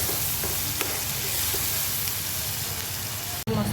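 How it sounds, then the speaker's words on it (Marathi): Tomatoes with salt cooking down in an onion masala in a pan, giving a dense, continuous close sizzle with faint stirring scrapes, which cuts off abruptly near the end. "टमाटर छान नरम होईपर्यंत अजून याला शिजू द्यायचं"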